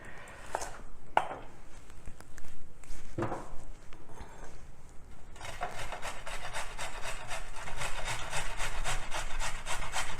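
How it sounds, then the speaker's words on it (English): A washed carrot is grated by hand. After a few scattered scrapes and knocks, a steady rhythmic rasp of quick back-and-forth strokes runs continuously, close and fairly loud, with no voices. "So for the carrot, I've already washed it and I'm just gonna grate it, which is nice and quick."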